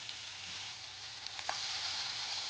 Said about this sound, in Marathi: आता हा जो चिरलेला टोमॅटो आहे ते तो देखील आपण इथे भाजायला टाकूया